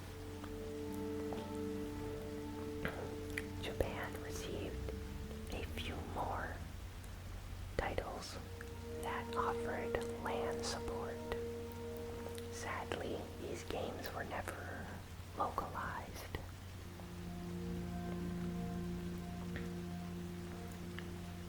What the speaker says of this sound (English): Do you prefer the sounds of the rain?